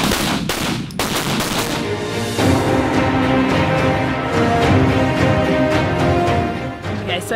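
Rifle and pistol gunfire crackles at a police live-fire training range in Auckland, a rapid volley of sharp loud shots, sparse at first then dense overlapping bursts, ringing close and continuous to the end.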